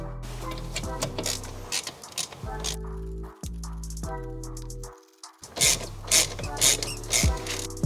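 A ratchet tightening the brake caliper bolts on a VW Transporter T4's front brakes, giving loud, close runs of rapid clicking in several bursts with brief pauses between strokes.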